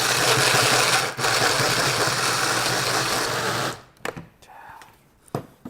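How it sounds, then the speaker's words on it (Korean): A blender grinds simmered green pea puree with a loud, steady whir for nearly four seconds, then cuts off, leaving a few clunks and faint handling noises. "이 상태에서 제가 블렌더에 넣고 한번 갈아 보겠습니다."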